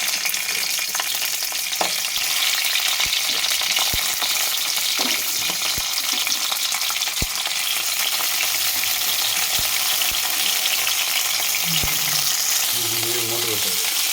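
Stuffed ivy gourds fry in hot oil in a pan with a steady, dense sizzle throughout, broken by a few soft clinks and a brief spoken remark near the end.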